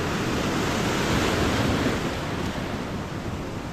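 Waves rolling onto a shore, a steady broadband roar of surf with wind rushing against the microphone, no voices.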